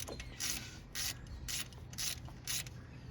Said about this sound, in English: take your ratchet and tighten it back down